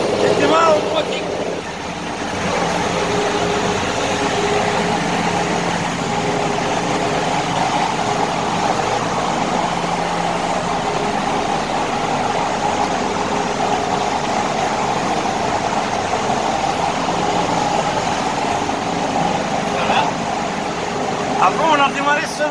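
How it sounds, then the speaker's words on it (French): Brickworks hydraulic motor in the clay preparation zone runs with a steady, continuous hum and machinery drone, loud and unbroken throughout, with faint speech in the background. "Après, on a démarré seulement l'hydromoteur."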